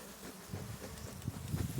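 A low, steady insect hum of many honeybees buzzing close by during a hive inspection, with a few louder swells as individual bees pass near.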